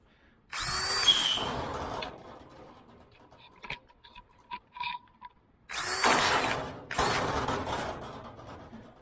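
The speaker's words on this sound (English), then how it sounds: "So my drill needs tightening" A power drill with a loose chuck whirs loudly in two bursts, separated by a quiet stretch of small clicks and taps.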